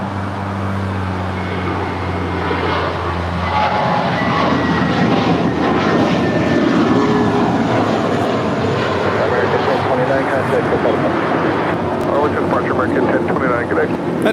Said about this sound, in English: 787-8 Dreamliner making her way down taxiway Bravo